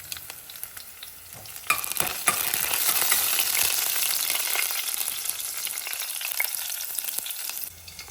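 Whole spices fry in hot oil for a chole masala, starting with a sudden loud sizzle that holds steady and bright, up close, before cutting off near the end, with no voices.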